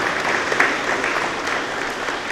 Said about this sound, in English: please, another round of applause for our students and staff